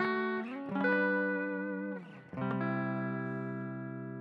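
An electric guitar played through a reverb preset on a Line 6 HX Effects unit rings out in sustained chords, the first fading after about two seconds, then a second strum blooming and decaying slowly with a soft, wide tail.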